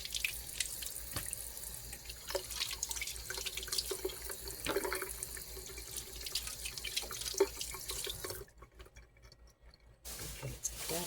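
Tap water runs steadily into a kitchen sink in a tiny house while tomatoes are rinsed, a continuous splashing stream with faint drips, broken by a brief lull near the end before the flow resumes.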